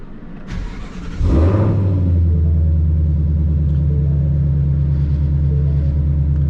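A 2020 Shelby GT500 on a dyno barks to life after a brief crank, then settles into a loud, steady, deep idle rumble that holds close and constant without any talking.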